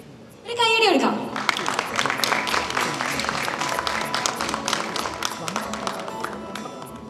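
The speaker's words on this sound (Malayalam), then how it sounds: "ഒരു കൈയടി എടുക്കാം." Audience applause at a Malayalam film audio launch event, sustained clapping from a large crowd that swells suddenly and continues steadily, with a voice briefly heard at the start.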